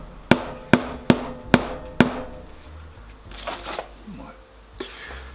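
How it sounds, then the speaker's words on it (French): Five evenly spaced hammer blows on a bass guitar part in a luthier's workshop, sharp and close, followed by someone talking and some handling noise. "foutre un coup de marteau dessus"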